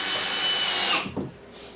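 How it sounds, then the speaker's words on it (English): A power drill runs loud and steady in a workshop while parts for a Proton Pack prop are built, then winds down and stops partway through. A short scraping burst follows, and no one speaks. "He's drilling."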